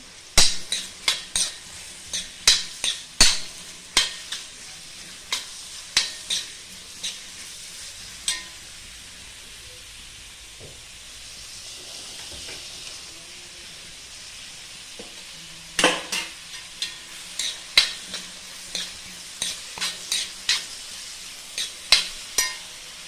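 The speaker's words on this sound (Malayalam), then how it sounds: "നന്നായി വഴറ്റി കൊടുക്കുക." Biryani masala sautéing in a pan for dum biryani, with bursts of spoon scraping and stirring clatter over a soft sizzle, pausing midway before resuming, close by with no talk.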